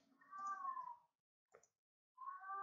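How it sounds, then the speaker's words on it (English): A cat gives two drawn-out, plaintive meows, one at the start and one at the end, with a brief soft knock between them, fairly faint in a quiet room. "Oh no, the sad kitty cat"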